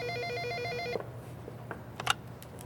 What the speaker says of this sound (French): Loré, c'est un appel pour toi